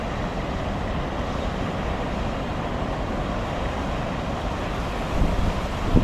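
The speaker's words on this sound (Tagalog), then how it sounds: "Oh, grabing hangin yan." Strong wind roars continuously across the microphone beside a river while fishing, a dense, buffeting rush that swells slightly louder near the end.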